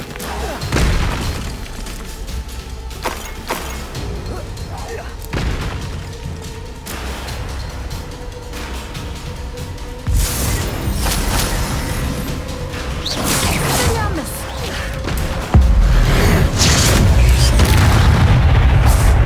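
Confringo and Bombarda explosion spells going off in the video game Hogwarts Legacy, repeated booming blasts and shattering bursts over a loud battle mix, with a voice shouting at times.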